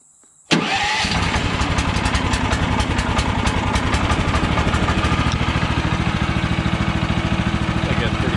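A gas engine on an HM130 Max portable sawmill, choked after sitting about a month, cranks and catches, then settles into a steady, loud idle with a rapid even throb that runs to the end.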